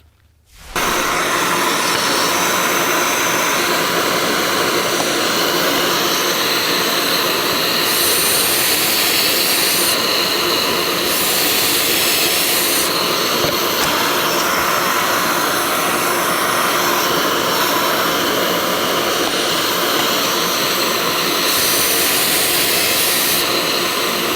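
A power drill boring pocket holes into a wooden cabinet face frame, a loud steady high-pitched whine running without a break for about twenty seconds, with no talking.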